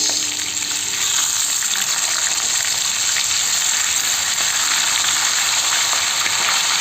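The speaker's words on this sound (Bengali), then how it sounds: "অনেক তেল বেরিয়েছে মাছটা দিয়ে ইলিশ মাছের ঝাল পুরো কমপ্লিট" Hilsa fish sizzles and crackles in hot oil, a steady, close frying hiss with no voices.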